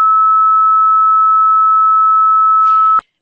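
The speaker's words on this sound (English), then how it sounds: "one bit corresponds to 390 hertz" A steady, pure 390 hertz Minitel modem data tone holds for about three seconds, then cuts off abruptly with a faint hiss at the end.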